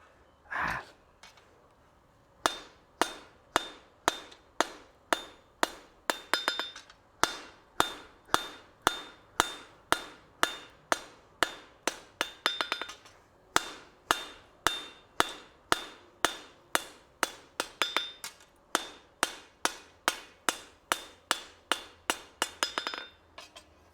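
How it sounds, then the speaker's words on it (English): A hammer forges metal on an anvil, striking many sharp, ringing blows in steady runs with short pauses between bursts, clear and close. "let's go back to the anvil, Jess."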